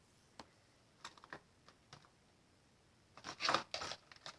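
Scissors snip and trim ribbon for a handmade Easter card, giving scattered quiet cuts early on and then a louder cluster of sharper snips near the end, with no talk.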